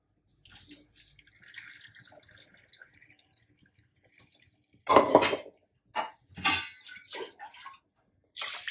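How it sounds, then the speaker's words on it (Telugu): Dal lentils being washed by hand in water: soft intermittent splashes and swishing, then louder sloshing bursts and clinks of the vessel, close and fairly quiet, with no voices. "ఇట్లా మంచిగా విసికి కడగాలి"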